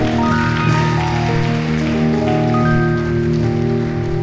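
Congregation at a Nazareth Church service applauding: dense, continuous clapping like heavy rain, loud throughout and blended with sustained musical tones.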